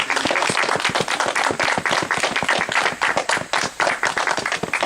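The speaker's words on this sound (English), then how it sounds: "Have a big round of applause for Chief Kessler." A live audience at a Chief Kessler appearance claps steadily, dense applause filling the whole stretch at close range with no voices standing out.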